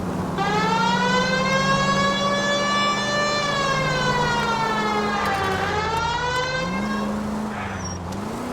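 A police car siren in the video game L.A. Noire wails loudly and steadily throughout, its rising and falling tone sweeping over a continuous engine hum, with no talking.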